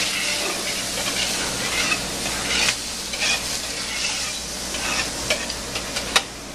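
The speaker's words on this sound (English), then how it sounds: "I like to break up the tomatoes, any big pieces" Tomato-based Bolognese sauce sizzles and bubbles steadily in a pot over high heat while a utensil stirs and breaks up tomato pieces, with scraping clicks and brief louder knocks against the pan, no voices.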